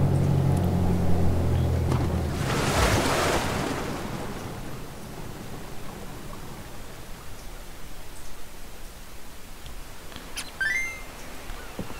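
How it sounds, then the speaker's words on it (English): A seaplane lands on water in the video game Animal Crossing: Happy Home Paradise. A broad rushing splash swells and fades into soft lapping surf, with a few faint bird chirps near the end. "Per standard operating procedure, for a seaplane, we'll be landing on the water."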